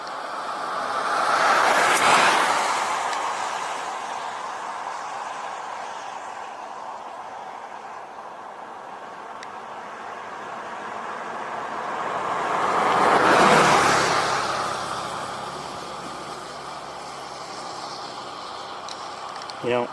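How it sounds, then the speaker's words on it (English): Two cars pass on a road beside a cornfield, each swelling from a distant hiss to a close whoosh and fading away, the first early and the second later, with occasional talk in between. "Car coming."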